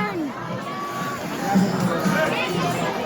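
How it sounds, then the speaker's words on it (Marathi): A large crowd of pilgrims at the Kalubai temple on a hill makes a steady hubbub of distant voices and shouts, with a nearby person talking over it. "इथं किती गर्दी आहे मी तुम्हाला खालून दाखवतो बघा"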